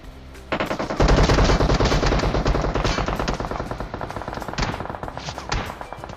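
Sustained automatic gunfire in PUBG Mobile, rapid bursts coming from behind during a solo-versus-squad match at the military base, loud and continuous with dense overlapping shots for several seconds.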